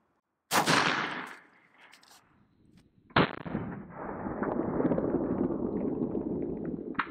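An AAC 5.56 rifle firing a 77gr Sierra MatchKing round: a single loud, sharp report after a short silence, decaying briefly, followed by another sharp crack and a sustained loud rumbling noise that continues to the end, with no talk.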